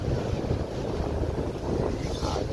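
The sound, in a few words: strong wind at a port during berthing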